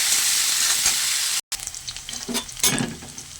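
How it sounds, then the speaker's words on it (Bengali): Shrimp fry in hot mustard oil with a loud close sizzle and spatter, interrupted by a brief cut, then bursts of crackling and stirring as the pan is worked; no voices. "এবার আমি চিংড়িগুলো একটু ভেজে নেব।"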